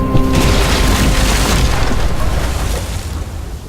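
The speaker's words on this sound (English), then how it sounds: "No! Shit, the bomb!" A bomb detonates in The Walking Dead final season video game, a loud close boom with a deep rumbling tail that stays heavy and slowly fades over several seconds.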